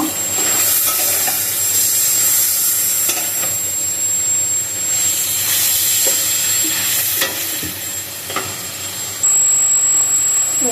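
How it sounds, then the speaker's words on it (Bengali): Boal fish sautéing in a spiced masala, a loud steady sizzle with repeated spatula scrapes and stirring strokes running throughout, accompanied by a constant high whine from a nearby appliance or fan, no talking. "এখন আমি দিয়ে দেবো মাছ মাছটা এবার আমি একটু ভালো করে কষিয়ে নিব"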